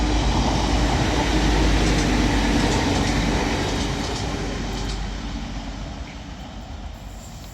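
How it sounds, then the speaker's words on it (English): A Transpennine Express class 185 diesel unit bound for Manchester Victoria from Leeds passes through Stalybridge station on the Huddersfield line, a loud, steady rumble with rail noise that gradually fades over several seconds. "Now passing through is going to be a Transpennine Express class 185 for Manchester,"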